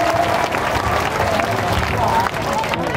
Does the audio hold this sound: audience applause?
yes